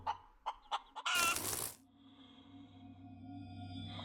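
A chicken clucks in the space-survival video game Breathedge: a few short, sharp clucks, then a loud squawking burst, followed by a low electronic hum that drones on to the end.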